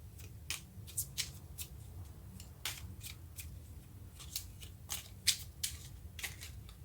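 Tarot cards being shuffled and drawn, giving a series of soft, quick papery snaps and riffles at irregular intervals over a low steady room hum, fairly quiet and with no talking.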